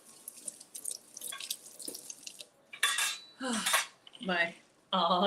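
Water runs and drips at a home kitchen sink as hands are rinsed, with a few clinks of dishes and cutlery, rising in short louder bursts near the end.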